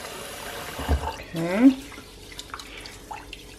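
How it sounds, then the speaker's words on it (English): Tap water runs over rice being rinsed in a kitchen, a short splashing, swirling rush of water heard close by while a person speaks briefly. "we're rinsing it with tap water"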